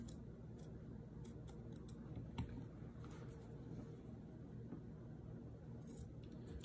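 Scissors snip through fabric while a loc stocking cap is being made, giving scattered faint crisp cuts and rustles over a steady low background hum, with no voices.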